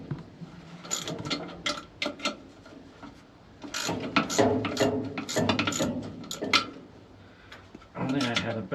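A ratchet works loose the last bolt during an oil change on a dragline, with repeated close metallic clicking and clattering in bursts.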